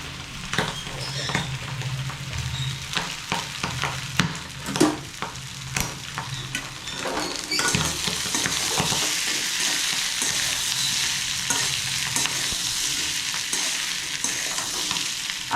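Mutton liver frying with garam masala on medium flame, a sizzle held steady throughout with repeated scraping stirs of a spatula against the pan, loud and close, with no talk.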